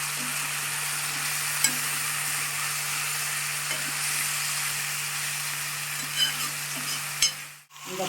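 Ripe bitter gourd frying in a pan with onion and curry leaves gives a steady, close sizzle and hiss, broken by a few stirring clinks and scrapes, then a brief sharp clatter near the end.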